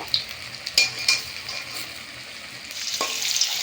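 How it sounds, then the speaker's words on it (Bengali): Banana flower (mochar) chops deep fry in hot oil, a steady bubbling sizzle broken by a few sharp utensil clicks and knocks against the pan, with no speech. "দিয়ে উল্টে পিলটে বেশ ভালো করে ভেজে নেব সব চপগুলো"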